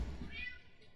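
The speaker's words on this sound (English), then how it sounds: "We heard the cat." A cat gives a single soft, drawn-out meow over faint room background, close but quiet.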